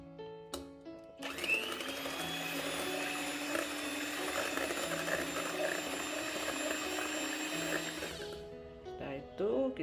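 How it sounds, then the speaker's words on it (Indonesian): An electric mixer whirs steadily as it whisks egg whites for a steamed milk layer cake, starting after a few clinks and running loud and constant for several seconds before switching off. "Untuk part 2 bagian 2 kita kocok putih telurnya yang tadi kita pisahkan ya"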